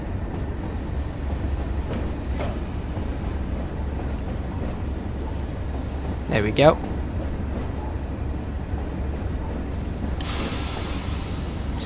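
A Class 37 locomotive hauling a coal train in the Train Sim World video game rumbles steadily at low pitch, with a brief hiss of brakes and a later spray-like rush while someone speaks briefly.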